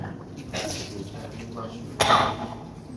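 A single sharp cough from a preacher with a three-week cough bursts out near the end of a sermon, preceded by a quieter throaty sound, with faint background noise around it.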